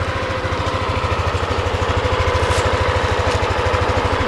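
A new motorbike's engine runs close by on a street in Canggu, a loud, steady, rapidly pulsing low thrum that holds without letup.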